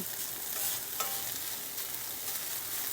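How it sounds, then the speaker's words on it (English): Rice stir-frying in oil with onions and sausage gives a steady, fairly quiet sizzle, broken by scraping and stirring sounds as the grains are broken up. "So I'm just kind of breaking this rice up somewhat and letting it absorb some of the flavor from the onions and the sausage."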